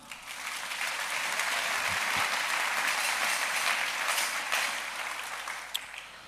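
A church congregation claps together in sustained applause, a dense even wash of hand claps that swells quickly and holds steady for several seconds before tapering.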